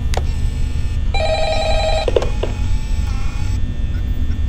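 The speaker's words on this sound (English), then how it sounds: "You have to listen to the phone call." Telephone ringing inside the Five Nights at Freddy's video game, a steady electronic ring in bursts over a constant low background hum, with no talking.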